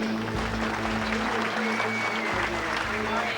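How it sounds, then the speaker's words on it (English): A poker tournament audience gives a steady, moderately distant round of applause for the eliminated reigning world champion, continuous throughout with a low background hum. "So a nice round of applause for Rob Marconi."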